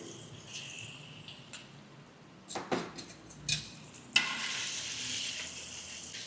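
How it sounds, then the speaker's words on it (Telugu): Ginger garlic paste dropped into hot oil in a home kitchen: quiet background hiss, then a few spoon knocks and splats before a loud, steady frying sizzle takes over. "అల్లం వెల్లుల్లి పేస్టు పచ్చివాసన పోయేంత వరకు మనం కలుపుకోవాలి"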